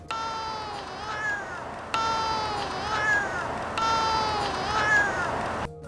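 A cat balancing on a slackline outdoors gives drawn-out, sliding meows, loud and close, in three similar calls that repeat back to back.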